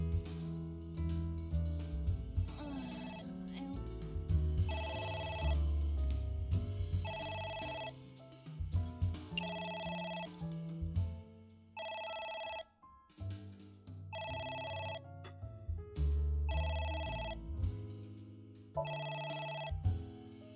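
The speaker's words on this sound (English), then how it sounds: "ignore it every time that phone rings" A telephone ringtone repeats in regular electronic bursts over a backdrop of game music, clear and fairly loud, with no voices.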